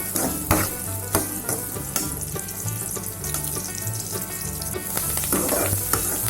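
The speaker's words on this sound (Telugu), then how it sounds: "ఉల్లిపాయ వేగేంత వరకు వేపుకుందామండి." Onions, curry leaves and green chillies fry in hot oil with a continuous close sizzle, broken by sharp scrapes and clicks of stirring at irregular intervals.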